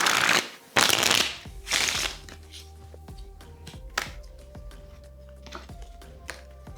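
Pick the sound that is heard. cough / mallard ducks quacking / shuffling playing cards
shuffling playing cards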